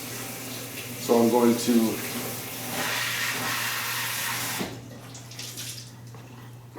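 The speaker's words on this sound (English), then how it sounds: "I've got some hot water I'm running here." Hot water runs from a tap with a steady hiss while a guitar is being refinished, then cuts off. Someone speaks briefly near the start.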